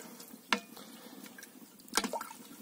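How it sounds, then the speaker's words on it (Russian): Salted water being stirred in a pot for cooking crayfish at a country dacha, two soft sloshing swirls about a second and a half apart, quiet and close with faint dripping in between. "Перемешиваем это все."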